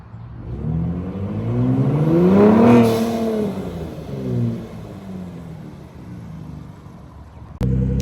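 A 2021 Gen3 Ford Raptor 3.5L fitted with an AWE SwitchPath exhaust drives past close by, its engine note rising and then falling as it passes, loud and throaty, with a sharp click near the end.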